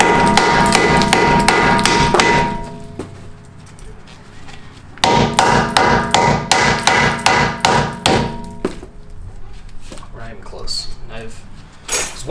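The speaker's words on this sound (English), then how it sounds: "Got my little block of wood here. Beat it here first." Heavy metallic hammer blows strike a wooden block held against a rusty, stuck brake rotor on a Ford Fusion, coming in two loud rapid bursts with a ringing clank and a quieter pause between them, while someone talks nearby.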